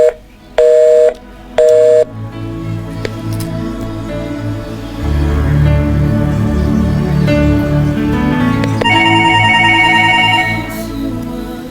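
A telephone rings during a call-in prayer broadcast, with two loud electronic ring bursts near the start, then a long stretch of room hum and murmuring before a further steady beeping tone.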